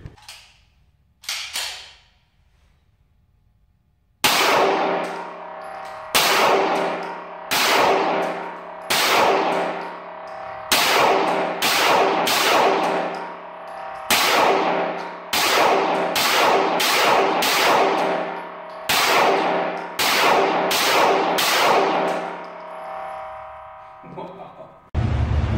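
CZ75 pistol shots at a shooting range: a long series of loud, sharp reports, some single and some in quick doubles, each ringing briefly, following a short stretch of quiet at the start.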